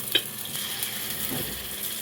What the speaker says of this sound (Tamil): இப்போ வந்து நம்ம பனியாரம் ஊற்றிக்கலாம்.